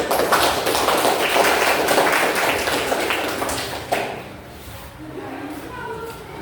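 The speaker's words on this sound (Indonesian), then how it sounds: "Semuanya luar biasa, tepuk tangan untuk kita semua" A classroom of students claps together after their presentations, a dense, fairly loud burst of hands that runs for about four seconds, then stops abruptly and gives way to faint room noise and a soft voice.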